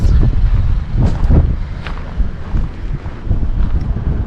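Wind gusting outdoors on an Icelandic road trip, a steady low roar buffeting the microphone close up, swelling and easing in uneven gusts throughout with no voices.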